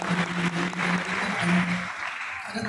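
A crowd stands and claps at a commissioning ceremony for theology college students, with steady, close applause and a voice faintly audible underneath.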